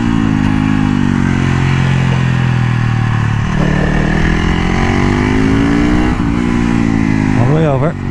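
Supermoto motorcycle engine pulling hard and loud throughout, its pitch dipping and climbing as the rider works the throttle, ending in a brief revving warble.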